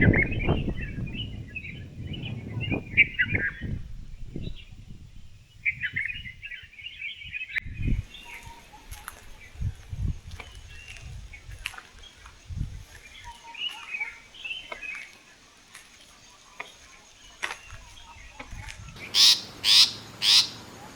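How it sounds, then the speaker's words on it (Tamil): Various birds call and chirp in the early morning at Kanthalloor, a Kerala hill station, with repeated clear twittering phrases near and far, some frog-like croaks, and occasional soft footsteps or knocks. "காலங்காத்தால் எழுந்திரிச்சு நடந்து பார்த்தீங்கன்னா விதவிதமாக பறவைகளோட சத்தத்தை கேட்டு என்ஜாய்"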